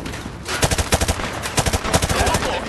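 Rapid automatic gunfire in the Call of Duty Modern Warfare 2 campaign, bursts of sharp close shots in quick rhythmic strings, loud and punchy, with faint voices underneath.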